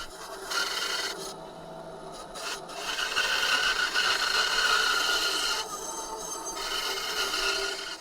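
A tool rasps steadily through purpleheart wood, trimming the sides of a small tool holder for a chisel and gouge sharpening jig. The cut is a continuous close scraping, swelling slightly and shifting in tone as it goes.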